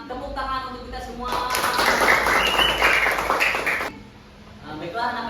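Classroom children clap together in a burst of applause lasting a few seconds, with voices before and after it.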